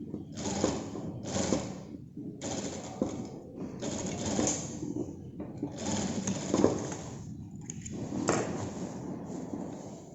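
A sewing machine stitches a pleated skirt seam in several bursts of rapid whirring, separated by short pauses, close and fairly steady.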